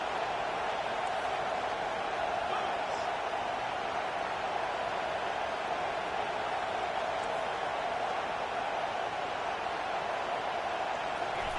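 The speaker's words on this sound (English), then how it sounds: "Decibels rising as the crowd gets behind this defense on 3rd down." Stadium crowd roar in a football game on a defensive third down, a steady broad wash of noise swelling behind the play, with no clear individual voices.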